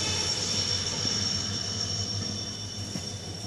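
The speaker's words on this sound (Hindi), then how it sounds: "नीम का थाना रेलवे स्टेशन से अपने ट्रेन का डिपार्चर हो चुका है" A train pulling away from Neem Ka Thana railway station gives a steady rumbling roll with faint rhythmic wheel thumps and a high whine, heard alone with no talking.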